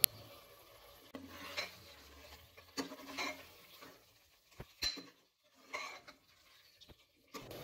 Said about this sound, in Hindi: अब इसमें मटन के पीसेस और 1 नींबू का रस डालकर अच्छी तरह से मिक्स करेंगे।